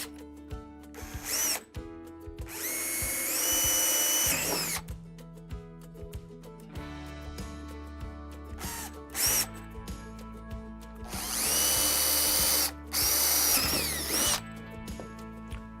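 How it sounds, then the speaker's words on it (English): A power drill bores 3/8-inch holes into a plastic kayak hull for well nuts. The motor whines up in several bursts, with two long loud runs, separated by short pauses and lower-pitched spin-downs. "I'm going to come back with the 3/8 and drill my holes to install the well nuts"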